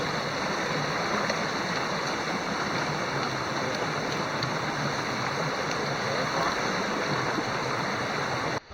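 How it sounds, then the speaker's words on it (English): Rushing white water in a rain-swollen stream gives a loud, steady, broadband roar that holds unbroken throughout and cuts off abruptly at the very end. "The white water down in the streams is crazy."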